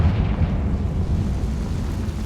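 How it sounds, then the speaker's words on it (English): A Confringo fire spell from Hogwarts Legacy detonates as a dense, rumbling blast that holds its roar for a couple of seconds, loud and close, with no talking. "Confringo."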